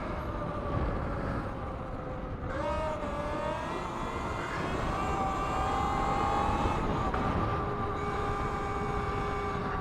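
A Talaria MX4 electric dirt bike whines under throttle in a wheelie, a steady electric motor tone rising and shifting in pitch over a continuous rushing roar of wind and tyres, loud and close throughout.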